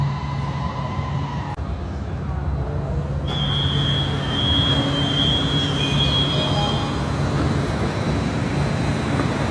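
A metro train rolls into an underground subway station in China, a steady rumble of wheels and motors with a rising whine and high squeal as it arrives, loud and continuous, with crowd murmur in the background.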